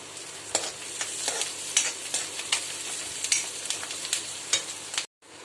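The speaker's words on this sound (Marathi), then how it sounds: "मिरची हिरवी मिरची कांदा असं पाहिजे परतून घेऊया" Green chillies and onion are sautéed in hot oil with cumin, producing a continuous close sizzle punctuated by regular spatula scrapes against the pan, and then a brief dropout just before the end.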